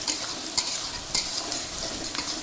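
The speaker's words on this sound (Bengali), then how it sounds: "এই যে দারচিনি আর হচ্ছে তেজপাতা দিয়ে দিলাম পেঁয়াজের মধ্যে" Onions frying in a pan with cinnamon and bay leaves for a home-cooked biryani, a steady close sizzle broken by several sharp bursts of stirring and scraping, with no talk.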